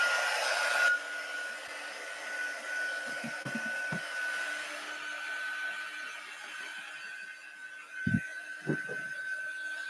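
A hair dryer blows steadily on acrylic paint, giving a constant airy whine with a high tonal hum. It is fairly quiet and continuous, with a few soft knocks and bumps partway through.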